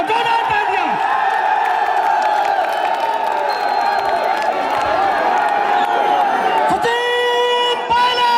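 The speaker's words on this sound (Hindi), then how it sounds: "हमारे जनप्रिय नेता श्रीमान सचिन पायलट जी, एक जोरदार तालियां।" Crowd at a political rally cheers, whoops and claps loudly, with continuous shouting and chanting blending into a dense roar under amplified talk from a speaker.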